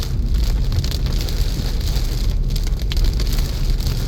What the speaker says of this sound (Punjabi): ਮੀਂਹ ਨੇ ਆਪਣੀ ਰਫ਼ਤਾਰ ਫੜੀ ਹੈ